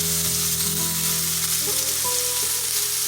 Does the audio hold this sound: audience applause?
no